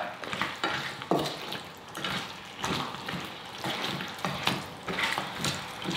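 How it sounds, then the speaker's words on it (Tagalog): Shrimp paste and pork ribs sauté in a hot pan, with a steady sizzle of frying broken by repeated scraping stirs from a spatula, close and fairly loud with no talking. "igigisa ko lang itong bagoong kasama itong ribs ng mga 3 minuto pa"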